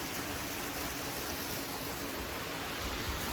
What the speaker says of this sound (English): This is the view of the main Switzer Falls from the other side.